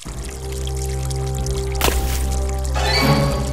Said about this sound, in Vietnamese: Xuống sông rửa mặt cho mát thôi